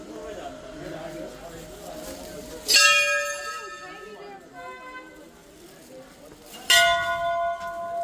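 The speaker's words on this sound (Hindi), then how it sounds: "देख रहे हैं लाइन से घंटियाँ बंधी हुई हैं" Temple bells ring at Kasar Devi temple, with two loud bright strikes a few seconds apart whose metallic tones ring on and fade, over a murmur of background voices and outdoor bustle.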